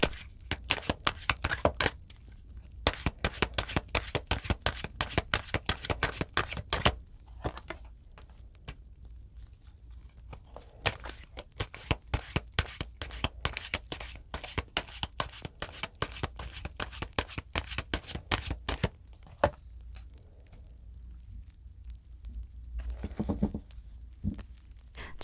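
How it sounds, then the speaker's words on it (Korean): Tarot cards shuffled for an advice draw, rapid crisp riffling bursts repeated again and again over nearly the whole stretch, close and fairly loud, with brief pauses between runs and no talking. "그럼 여러분을 위한 조언 카드 뽑아볼게요"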